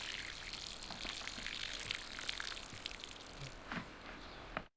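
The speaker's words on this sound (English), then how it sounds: "Rinse the rice thoroughly to wash out as much starch as possible." Water runs and splashes steadily while rice is rinsed in a kitchen to wash out the starch for Uzbek plov, with a few sharper drips and splashes standing out near the end.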